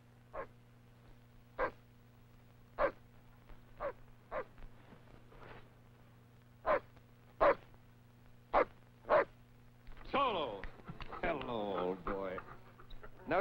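A dog in a 1940s Alaska gold-rush drama gives a run of sharp, evenly spaced barks, loud and close, then a voice breaks in and a rising, wavering whine takes over near the end.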